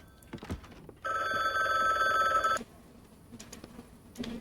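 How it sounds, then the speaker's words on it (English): A telephone bell rings inside the video game The Book Walker, loud and buzzy for about a second and a half and then stopping. Quieter clicks and game sounds come before and after the ring. "We should at least get the phone"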